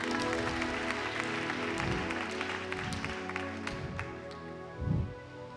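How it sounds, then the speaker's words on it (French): A church congregation at a French-language consecration service applauding, a dense sustained patter of many hands with rising and falling swells and a few low voices mixed in. "Est-ce qu'on peut acclamer la parole?"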